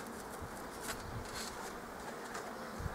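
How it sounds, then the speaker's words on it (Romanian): Buzzing of an agitated honeybee at an open hive during spring beekeeping work, a steady close insect drone running throughout with faint handling noises and no voices. "Am lovit-o pe beata albinuța asta și iată, ea e"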